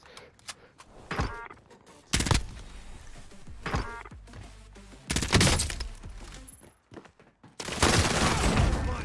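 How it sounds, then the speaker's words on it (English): Gunfire in the video game Warzone comes in sharp bursts and short automatic volleys, several loud clusters spread over about nine seconds with quieter rattles between them. "they're shooting"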